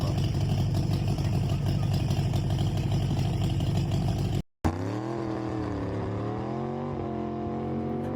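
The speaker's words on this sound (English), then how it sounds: "car number 832, that is a AA street roadster roaring on the course. Sounds like he's struggling to find a gear" An AA street roadster roars along the El Mirage dry lake land speed course, a steady loud engine drone that cuts out briefly, then returns with rising and falling pitch as gears change, heard from a distance.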